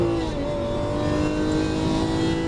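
A Lamborghini Aventador engine on a race track holds a loud, steady high-revving roar with a rising tonal whine during an upshift, heard from close by inside the car.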